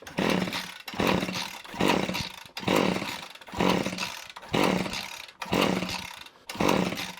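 An old petrol strimmer with its choke on is pull-started again and again without firing, each tug giving a loud rasping whirr of the recoil cord and engine turning over in a steady rhythm.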